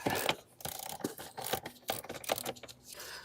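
Close, uneven ratchet clicking as a wrench works the bolts loose on a Ram TRX air filter housing, in short irregular bursts with brief gaps.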